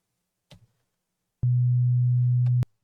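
A standard sine wave test tone sounds as a steady low pure hum lasting about a second, cutting in and out abruptly after a couple of faint clicks, with no talking.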